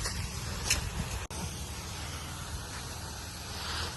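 A sprayer mists natural medicine onto mango trees on a farm near Chennai, giving a continuous close hiss with a brief cutoff and a slight swell toward the end.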